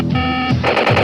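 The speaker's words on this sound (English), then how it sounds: "With lights, action, and electronic battlefield sounds, nothing beats the General." Electronic battlefield sound effects from a G.I. Joe General toy, a mobile battle fortress: a short, loud, buzzy synthesized tone burst followed by a rapid electronic stuttering like toy gunfire.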